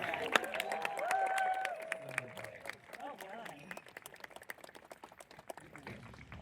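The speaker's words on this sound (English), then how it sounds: "Give him a round of applause." Audience applause and clapping with some cheering at a falconry show, fairly loud at first and then thinning to scattered claps, with a voice and a bird cry mixed in.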